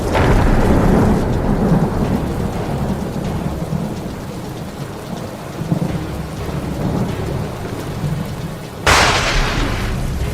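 Heavy monsoon rain pours down steadily in Visavadar, Gujarat, under deep, rolling thunder, with a sharper thunderclap bursting out near the end.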